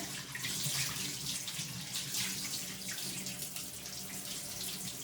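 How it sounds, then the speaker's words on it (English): Tap water runs steadily into a bath, a continuous close hiss and splash with no breaks and no voices. "Get the tap going."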